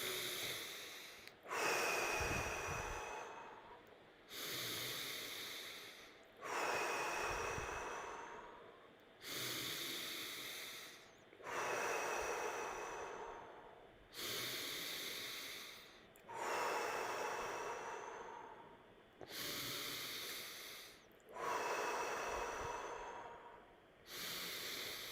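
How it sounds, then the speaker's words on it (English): Deep, slow belly breaths during a guided breathing exercise, drawn in and let out in a steady cycle of about seven long, close, airy inhale-exhale swells with brief pauses between them. "focus on breathing really deep to the belly"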